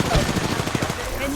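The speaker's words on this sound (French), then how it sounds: "On me tire dessus." Rapid automatic gunfire from the video game Apex Legends rattles in a quick string of shots under overlapping game voice lines, close and fairly loud for just over a second.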